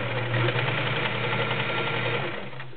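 A vintage Kenmore Model 1940 convertible sewing machine with a size 16 needle stitches through six layers of Levi's denim, a steady close mechanical whir and rapid needle knock running continuously before easing off at the end.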